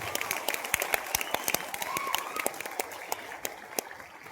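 Audience applause at an RCM company event in Surat, a dense burst of many hands clapping steadily for over four seconds, with scattered sharper claps standing out and a faint crowd murmur underneath.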